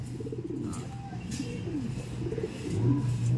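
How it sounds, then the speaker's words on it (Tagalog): Soft, repeated cooing of young pigeons close by, low throaty coos rising and falling over a few seconds with no one talking. "Ang ganda na ng young bird natin"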